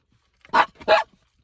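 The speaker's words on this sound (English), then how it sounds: "The dogs, but especially Smokey barking in the back" Dogs bark from the background of a room, two quick medium-loud barks with nothing else heard around them.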